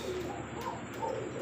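A large black Lahori pigeon coos softly and repeatedly against a faint, steady background hum, with no voices present.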